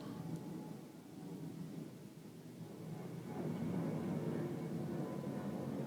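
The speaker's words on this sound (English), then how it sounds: "A lot of Southwest planes going over our house tonight." Southwest Airlines jets passing low over a house near an airport at night, a broad steady rumble that swells louder toward the end and holds.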